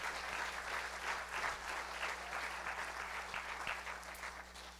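A church congregation applauds together, a dense, steady clatter of many hands clapping that stays even for nearly five seconds and then begins to fade, heard from within the room, with no voices.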